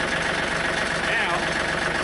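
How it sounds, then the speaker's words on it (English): A John Deere 4105 compact tractor idles steadily up close, its diesel rumble even and unbroken throughout. "let's turn the tractor off where y'all can hear me a little bit"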